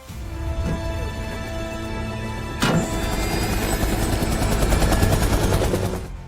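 Helicopter in the film Hitman 2, a steady dense rotor-and-engine roar filling the whole stretch, with a sudden sharp burst partway through after which the loud mechanical drone continues, close and unbroken, with no talk.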